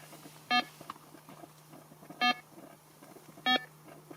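A fishing bite alarm on a lake sounds three short electronic beeps at irregular intervals as a bream takes the line, clear and close over a faint steady hum and quiet background.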